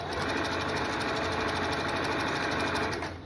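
A sewing machine runs a steady, fast stitch along a tote bag strap, its rapid even motor rattle close and continuous before easing off at the very end.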